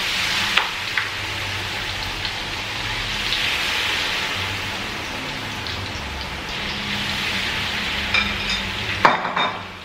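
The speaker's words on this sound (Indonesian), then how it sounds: "Jadi kita tuang saja ke minyak gorengnya." Banana fritter batter poured into hot cooking oil sizzles with a steady, loud crackling hiss that runs nearly unbroken, with brief clinks near the end.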